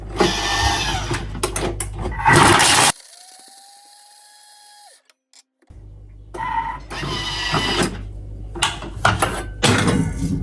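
A Thermomix kitchen machine mixing spaghetti carbonara ingredients runs loudly in bursts, with a steady whirring hum in the middle, a short pause of near silence, then more rattling and clattering bursts.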